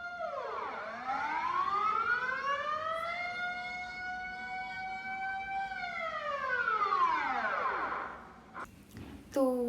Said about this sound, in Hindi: नेदरलैंड्स में हर महीने के पहले मंडे को दोपहर को ठीक 12 बजे एक बहुत ज़ोर का अलार्म बजता है।